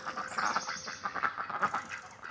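Ducks, including a Cayuga, quacking in a duck house on a homestead, giving repeated nasal quacks in a fairly close, steady, overlapping chorus.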